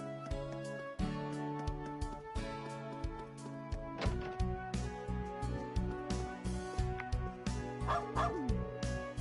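A dog in the video game Trails of Cold Steel 3 gives a run of short, regular yips and barks over background music, each bark clear and close, repeating almost like a beat.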